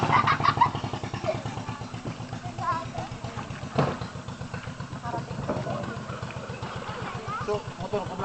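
A motorcycle engine idles and runs with a steady low pulsing throb on a road trip in Bicol, with people talking over it throughout.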